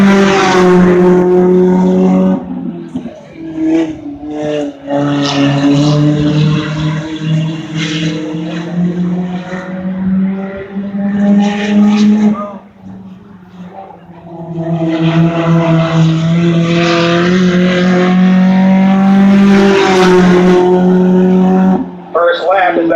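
A race car laps Birch Run Speedway, its loud engine note rising and falling as it passes, nearly continuous across the clip with a brief dip midway, while a track announcer talks over it.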